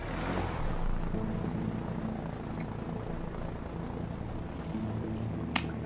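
Airplane engine in the video game A Way Out, a steady loud droning roar with a fluttering propeller-like texture, constant and close throughout, no talk.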